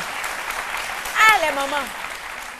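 A studio audience on an Ivorian midday TV show applauds in a steady wash of clapping while a voice speaks over it.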